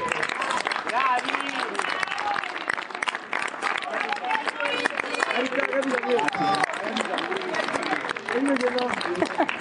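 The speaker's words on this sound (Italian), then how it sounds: "Un applauso alla parrucca più bella, Pierluigi." Audience applause fills the whole stretch at a lively cabaret evening in Volciano, dense and steady from start to finish, with crowd chatter and voices mixed into the clapping.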